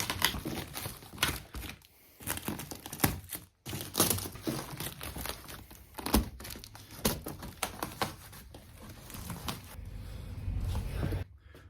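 Plastic wrapping crinkles and rustles near the microphone, with snips and tearing as a package is cut open, in bursts with short pauses.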